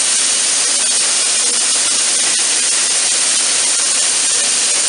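Dry ice CO2 cleaning system blasting steadily from its nozzle during rental unit setup, a loud continuous hiss with no talk over it and no breaks throughout.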